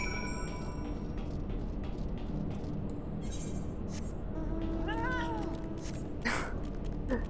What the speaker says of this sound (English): That cat noise every time when you mount it.